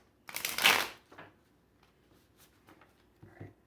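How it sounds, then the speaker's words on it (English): A deck of tarot cards riffled once in a quick, crisp burst, followed by a few soft taps and light handling noises. "One more shuffle."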